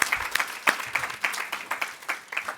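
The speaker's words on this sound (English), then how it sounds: "one really great round of applause for our presenters" Audience members applaud presenters at a community-led monitoring session, a short burst of distinct, fairly close hand claps at a steady, lively rhythm.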